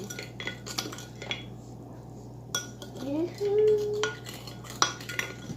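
A utensil stirs gizzada filling in a bowl for the Jamaican pastry, scraping and clinking against the dish in uneven strokes at close range, with a faint hum underneath.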